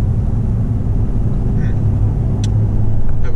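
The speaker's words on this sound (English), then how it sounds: "There's a ton of traffic." Steady heavy road traffic rumbles close by as a car or truck passes near a high school letting out, with a continuous low engine drone and a few faint higher squeaks.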